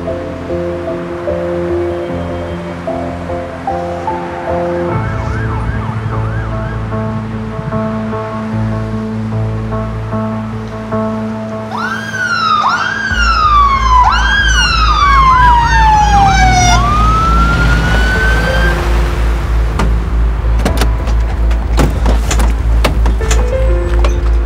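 An ambulance siren wails loudly and rises and falls in sweeping tones as the vehicle approaches, over a heavy low engine rumble and a roaring background that grows stronger toward the end.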